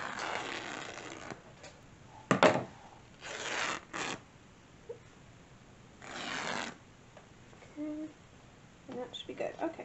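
Voile fabric being cut for sewing produces several short bursts of scissor snips and fabric rustling, close and fairly quiet, separated by pauses.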